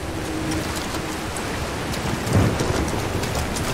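A waterfall in Tomb Raider rushes as a loud, steady broadband roar that stays even throughout, swelling slightly midway, with no voices.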